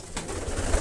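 A pigeon coos in a loft during ringing, a short low murmuring coo close by, with rustling and handling noise around it.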